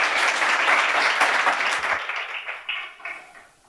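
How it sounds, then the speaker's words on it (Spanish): An audience applauds a speaker at a Spanish talk event, dense clapping that swells loud and then thins out and fades over the final second. "Le damos un fortísimo aplauso"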